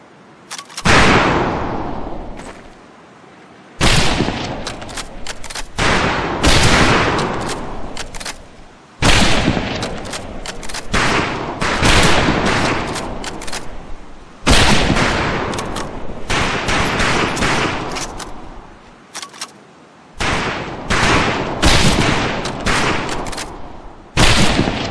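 Repeated rifle volleys crack out at a shooting range during a military training exercise in Medal of Honor Pacific Assault, loud sharp bursts in several clustered groups separated by short pauses, with no talking over them.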